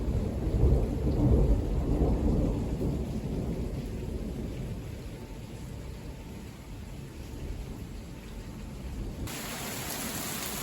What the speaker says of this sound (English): We're waiting for 2 days for this rain.